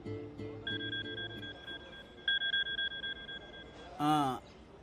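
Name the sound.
telephone ringing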